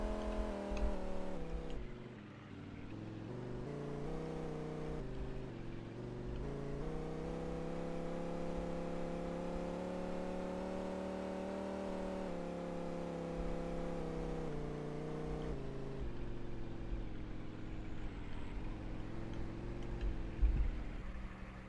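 A vehicle engine in the farming simulation game True Farming drones steadily, its pitch dipping and then climbing as it revs and holds a sustained tone, with no talk over it.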